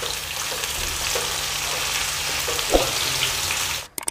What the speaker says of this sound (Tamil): இதை லைட்டாக வறுத்துருவோம்.